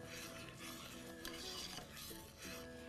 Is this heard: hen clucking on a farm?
no